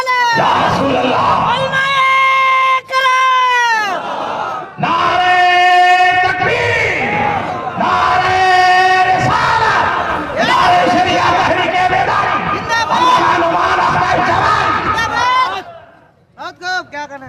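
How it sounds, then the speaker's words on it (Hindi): A conference crowd shouts religious slogans in call and response, a leader's chant answered by massed, loud, sustained voices in repeated waves, ending abruptly near the close. "आइए उनका इस्तक़बाल नारे से कर लीजिए और नारा मजमे से कोई जोर से लगाइए।"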